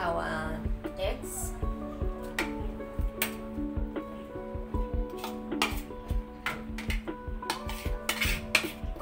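Potatoes and carrot mixed with eggs in a bowl, with irregular spoon clinks and scraping knocks of moderate loudness close by, while a person talks throughout.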